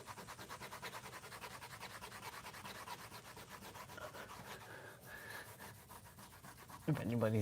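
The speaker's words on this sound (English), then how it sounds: "I'm just scrubbing off this tape off the wall." Tape residue scrubbed off an indoor wall: a soft, steady back-and-forth rubbing that repeats in a fast rhythm at low volume, with a brief louder knock near the end.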